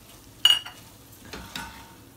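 Shredded cabbage dropped into a frying pan with mince, giving a brief sharp sizzle and clatter, followed by a quieter stirring scrape and a second soft burst of sizzling, close and alone without talk.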